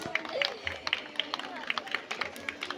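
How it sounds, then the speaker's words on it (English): Audience applause at a school annual day programme at Ali Public School and PU College, Tumkur: scattered, uneven clapping with a lively crowd murmur, sustained for a few seconds at moderate distance. "A big round of applause."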